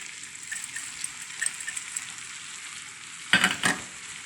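Rice stirred and fried in melted butter in a pot, a steady soft sizzle with light scraping, then a couple of louder stirring scrapes near the end.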